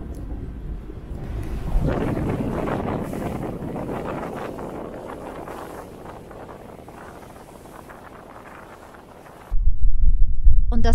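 Strong, steady 30-knot wind roars and buffets the microphone aboard a sailboat anchoring in a bay for most of the clip, swelling into a louder gust near the end; no voices.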